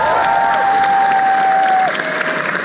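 A concert crowd applauds and cheers as a band is welcomed to the stage, with loud dense clapping and shouts plus a sustained whistle-like tone that stops partway through.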